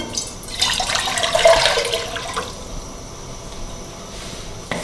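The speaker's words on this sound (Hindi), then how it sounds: "1 किलो हम पानी डालेंगे।" About a kilogram of water poured into a cooking pot on the stove for almond sharbat: a rushing, splashing pour that swells in the first two seconds, then thins to a softer trickle, with no talking.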